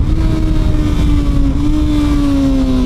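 A Kawasaki ZX6R 636 sport bike revs hard on the road while ridden, its loud, close engine whine climbing steadily in pitch, with a slight dip near the middle, under rushing wind.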